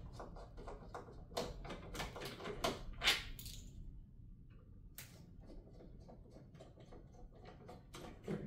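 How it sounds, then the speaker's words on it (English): Screws are turned out of the panel of an arcade stick by hand, with a run of small close mechanical clicks and ticks in a quiet room, a brief lull, then more faint clicking. "I'm just going to go right ahead and remove all four of those screws"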